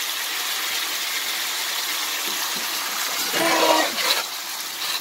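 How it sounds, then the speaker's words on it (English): Water poured into a hot skillet of browning potatoes, giving a sudden hissing sizzle and steam burst that swells for a moment before settling back into a steady background fry, with no talk. "I'm gonna add some water to the pan, and it's gonna steam up."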